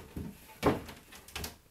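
The doors of an Excalibur dehydrator and a Sedona dehydrator are opened after a kale chip drying run, giving three close, sharp clunks and clicks spaced across a quiet room.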